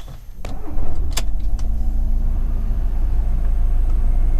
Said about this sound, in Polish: Ale jadę się przejechać po lesie.